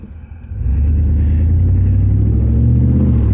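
A Pontiac Trans Am running on year-old gas on a back street, its engine climbing into a loud, sustained rumbling rev during a burnout attempt, close and steady.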